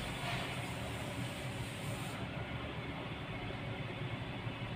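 A Mitsubishi Outlander's engine idles at a low, steady rumble, a continuous even drone with no voices over it.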